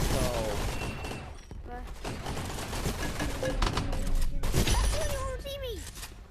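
Dual pistols firing in a video game, rapid shots layered over busy game sounds with players talking throughout.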